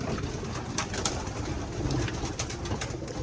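Racing pigeons at an outdoor loft on a rainy day, about 22 birds, cooing in soft overlapping murmurs that keep up steadily and close, with no voices heard.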